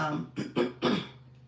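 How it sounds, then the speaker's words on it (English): Three short, raspy coughs in quick succession, close and fairly quiet, fading into a soft breath afterward. "I'm still coughing because it got warm in here."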